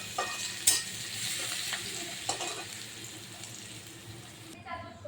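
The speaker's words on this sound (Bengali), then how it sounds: "পেঁয়াজটা দিয়ে দেবো। একটু নেড়ে চেড়ে সুন্দর একটু লাল লাল করবো" Chopped onion fries in a pan for a spiced fish-head curry, a close, steady sizzle with a few sharp utensil scrapes and knocks early on, fading toward a quieter end with no voices.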